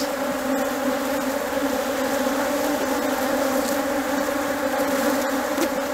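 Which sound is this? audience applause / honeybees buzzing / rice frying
honeybees buzzing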